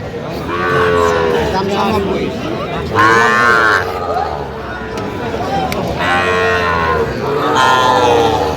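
Young bull calves at a cattle market near Dhaka give several loud, drawn-out moos in succession, close by, with a faint crowd murmur underneath.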